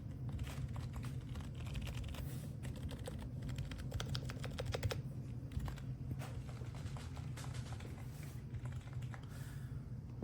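Quiet, steady typing on a MOFII purple wireless 18-key numeric keypad with its 0 and enter stabilizers removed, a run of soft, rapid key clicks close by with no voice.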